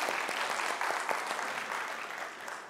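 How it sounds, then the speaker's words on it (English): A church congregation applauds for a woman at a Sunday morning service, a full room of clapping hands with a few sharp individual claps, tapering off gently toward the end. "Let's give her a big round of applause."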